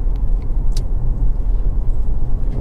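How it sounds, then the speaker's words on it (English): A Honda CR-V 2.0 i-VTEC automatic at full operating temperature idles smoothly and evenly, a close, steady low engine rumble with a few faint clicks above it. "Engine settles to an absolutely smooth, even idle."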